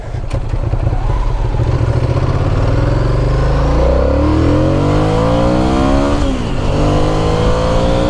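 A Ducati Monster 695 motorcycle engine, a 2007 model, is ridden hard with loud, close revving that rises and falls through several gear changes, alone with no talk.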